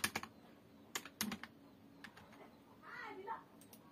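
A password is entered on a computer keyboard during a local WordPress setup, with a few quick, quiet clusters of key clicks followed by a soft, muffled sound.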